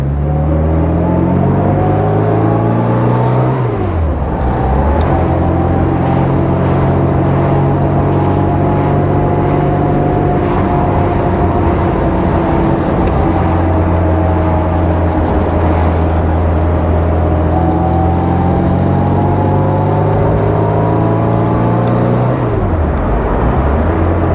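A 1960 Austin-Healey Bugeye Sprite drives along, its engine droning loud and close from inside the car, revs climbing and falling through gear changes with a deep steady rumble throughout.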